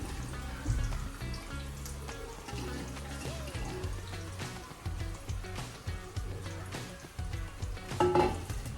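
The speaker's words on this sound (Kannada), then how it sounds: "ಅದಕ್ಕೆ ಎಣ್ಣೆ ಬಿಸಿ ಆದಮೇಲೆ ನಾವು ಇದರಲ್ಲಿ ಆವಾಗಲೇ ಮಸಾಲೆ ಎಲ್ಲ ಹಾಕ್ಕೊಂಡಿದ್ವಲ್ಲ ಮೀನನ್ನ, ಇವಾಗ ಅದ್ರೊಳಗಡೆ ಹಾಕ್ಕೊಳ್ಬೇಕು ಮೀನನ್ನ" Masala-coated fish fries in hot oil for a home-style fish curry, giving a loud, dense, continuous sizzle and crackle with scraping and stirring noises throughout, close up.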